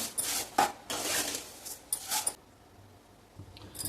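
Vermicelli roasting in a pan for sheer khurma, with dry rustling and scraping strokes as a spatula stirs it in several short bursts, then quieter pauses.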